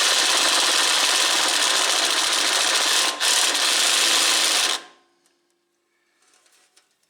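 A cordless drill drives the shear pin nut on a Noma Performance 10/29 snow blower. It whirs loudly and steadily with one brief dip, then stops, leaving faint clicks and handling noises.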